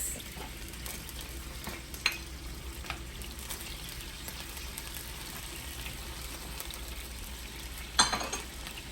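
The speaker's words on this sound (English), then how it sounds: "I'm gonna just cook the carrots." Carrots frying in a pan while cooking Jamaican-style escoveitch fish, a steady low sizzle throughout with a few sharp clinks of a utensil, louder near the end.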